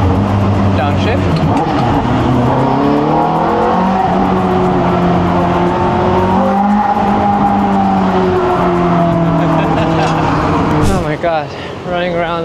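A car engine revs loudly and close, holding one pitch, then dropping and climbing again as the driver downshifts and accelerates hard, with a sharp change of sound near the end.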